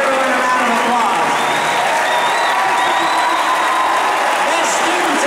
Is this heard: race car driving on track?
no